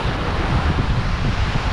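Sea surf rolls in at Jumeirah Beach in Dubai as a loud, steady wash of breaking waves. Heavy wind rumble on the microphone blends into the roar, and no voices are heard.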